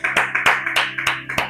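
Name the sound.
congregation applauding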